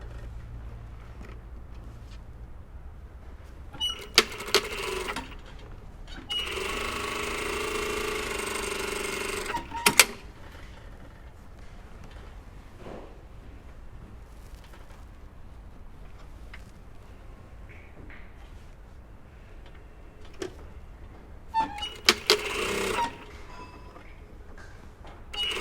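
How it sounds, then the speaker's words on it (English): A sewing machine stitches denim jacket pocket pieces in two loud bursts: a steady run of several seconds, then a shorter burst near the end. Quiet handling and fabric rustle fill the gaps between them. "So we're just sewing those"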